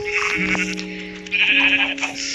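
Sheep bleating in the Minecraft video game, a few wavering bleats close and clear over steady game background, one after another without pause.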